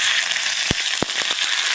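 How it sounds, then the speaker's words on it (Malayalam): Mustard seeds crackle and pop in hot oil as a tempering for a special inji puli, a ginger-tamarind relish with star fruit: a steady sizzle broken by several sharp, close pops. "ഇതേ കടുക് പൊട്ടിച്ച് ചേർക്കുവാണേ."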